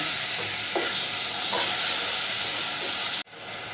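Hilsa fish head frying in a pan, a steady loud sizzle with a few soft stirring scrapes, cutting off abruptly near the end.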